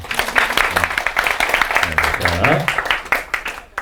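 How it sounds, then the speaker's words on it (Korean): Audience applause at a Korean college-entrance math study-skills information session, crisp claps from a room of listeners with a voice briefly speaking partway through. "박수 한번 쳐줘야죠."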